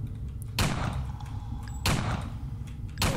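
A sniper rifle in a video game fires three sharp, loud shots spaced about a second apart, each a sudden crack followed by a brief decaying tail over a low steady background.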